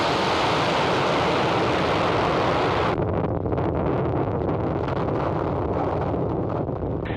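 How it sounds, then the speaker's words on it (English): SpaceX Falcon 9 rocket lifting off on the NROL-48 launch: a loud, continuous broadband roar that fills the whole stretch, rumbling steadily and thinning slightly midway, with no voices over it. "And liftoff of Falcon 9."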